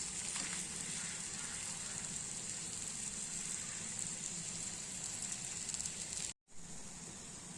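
Ragi adai flatbread, a spiced finger-millet batter sweetened with a little jaggery, sizzling steadily on a hot pan, a continuous close frying hiss with a brief dropout near the end.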